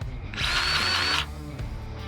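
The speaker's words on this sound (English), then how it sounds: "I've got this nice DeWalt grease gun." A DeWalt battery-powered grease gun greasing the zerks on yard equipment: its motor gives one close, high whine lasting about a second, followed by a short mechanical click.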